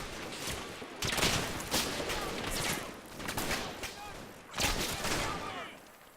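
Heavy gunfire from the Combat Mission war game fills the clip as repeated bursts and volleys of shots, several sharp clusters at uneven intervals with a fainter battle din between them.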